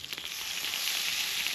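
Mutton tail fat sizzles and crackles in a kazan, a steady, close hiss that stays loud and even throughout with no voices.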